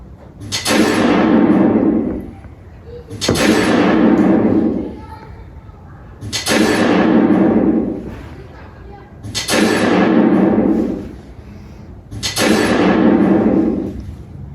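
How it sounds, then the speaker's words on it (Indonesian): Five loud, booming pistol shots go off at an even pace, about two seconds apart. Each blast rings on and fades slowly before the next. "Dan terdengar 5 suara tembakan pistol."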